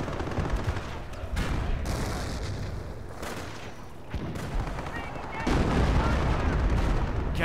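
Rapid machine gun bursts rattle amid booming gunfire and artillery in the World War II video game Company of Heroes, dense and continuous, with some voices shouting between shots.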